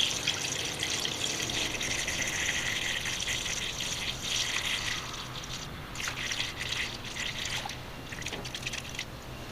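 Premixed 50/50 coolant pours into the radiator of a 1978 Dodge W150, a soft continuous trickling and gurgling of liquid at low level with a few small splashes near the end.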